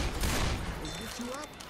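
Rapid gunfire from the zombie shooter Left 4 Dead 2 crackles densely at the start and thins out, with players' voices and game tones over the later part.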